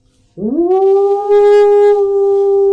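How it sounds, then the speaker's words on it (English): A wolf howls in a woodland sound effect, one long sustained tonal howl rising sharply then holding steady and loud for over two seconds, heard alone. "You hear the sound of a wolf howling."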